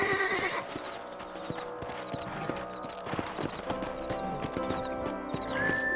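Horse hooves clip-clop steadily while riding in the video game Red Dead Redemption on Xbox One X, a close, rhythmic patter of hoofbeats with an occasional whinny.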